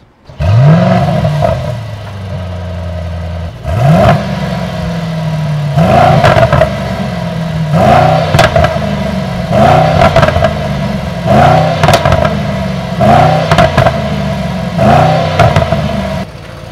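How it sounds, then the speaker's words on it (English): A 2024 Mercedes-AMG GLE 63 S V8 starts with a loud bark and settles into idle, then revs in a series of sharp blips with deep rumbling falls in between, close and very loud. "Proper V8 sound, really great, I love it."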